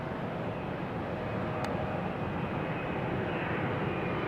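Boeing 777 airliner taxiing at the top end of a runway at Heathrow, a steady distant jet engine roar holding constant throughout with a faint whine above it.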